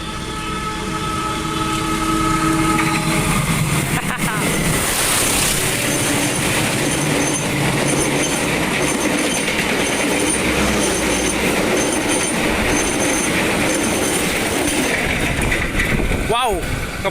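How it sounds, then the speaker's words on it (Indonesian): Bangunkarta express train speeding straight through Purwosari station without stopping, a loud continuous rumble of wheels and carriages close by with a long horn blast near the start. "ngebut kereta api Bangunkarta melintas langsung stasiun Purwosari bertemu dengan kereta api Sri Tanjung"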